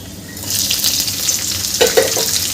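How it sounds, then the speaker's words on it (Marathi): Peanuts and green chillies fry in hot oil with curry leaves for a fasting-day bhagar dish, giving a steady close sizzle with stirring and a louder crackling burst near the end. "आणि शेंगदाणे मिरच्या घालून घ्यायच्या आहे याच्यामध्ये"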